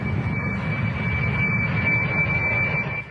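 Steady roar of a China Airlines jet plane's engines with a high whine on top, continuous and fairly even.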